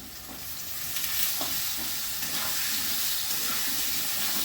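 Sliced onion and potatoes with bay leaves, turmeric and salt fry in a pan, a loud continuous sizzle with scraping stirring strokes, close up and without voices.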